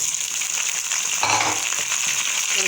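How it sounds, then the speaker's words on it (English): Minced meat tipped into a pan of browned onions, crackling into a loud, dense sizzle that briefly swells as it hits the hot oil, with no voices. "Now our onion is brown and I'm gonna add the mince."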